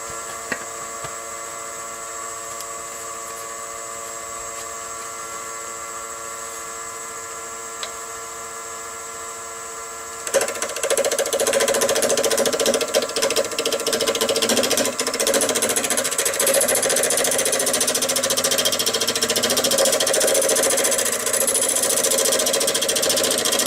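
A lathe spinning a wine bottle stopper mandrel at about 850 rpm, with a steady mechanical whine and hum that jumps to a louder, busier running sound partway through, and no talking.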